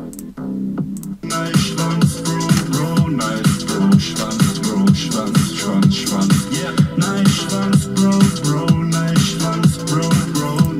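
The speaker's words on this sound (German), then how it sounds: "ich muss euch kurz das Musikvideo von ihm zeigen" A song from a music video plays loudly and steadily, with a punchy rhythmic beat and a dense backing track that runs the whole way through.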